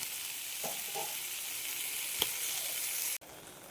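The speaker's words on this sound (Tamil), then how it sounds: "இப்போ இந்த தக்காளி நல்லா வணங்கட்டும்" Onion and tomato sauté in a pan for a bitter gourd tamarind curry, giving a steady close sizzle with a few soft stirring scrapes and a sharp click near the end; nobody speaks.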